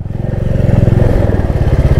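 A Royal Enfield Meteor 350 motorcycle running close by, its single-cylinder engine thumping in a loud, fast, even rhythm that rises slightly as it goes.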